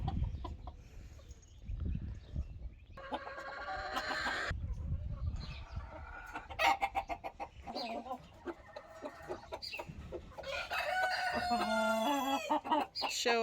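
Frizzle chickens in a coop cluck busily nearby, broken by several loud, drawn-out rooster crows and overlapping hen calls.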